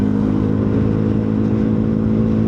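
Bajaj Pulsar NS400Z 2025 motorcycle engine running smoothly at speed, a steady close, loud hum with even tone and no breaks, heard from the rider's position.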